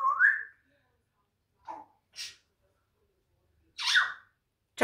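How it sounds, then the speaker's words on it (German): A few short whistled notes come one at a time with silences between them: a rising tone, a couple of brief chirps, then a longer bright burst. Each sounds close and clear. "Pfeif mal was Schönes."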